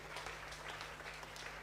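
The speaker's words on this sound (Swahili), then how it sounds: "So you can clap our hand to Jesus." Congregation clapping hands together in a church service, a steady, dense patter of applause filling the room at moderate level, with a low steady hum beneath.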